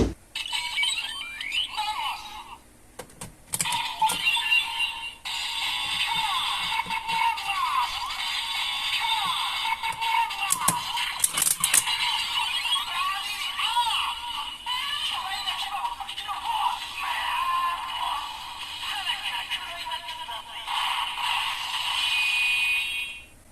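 A DX Mammoth Vistamp stamped into a Revice Driver toy belt plays a long, continuous sequence of loud electronic effects, jingles and synthesized voice-like calls, close-up, with a few clicks near the start.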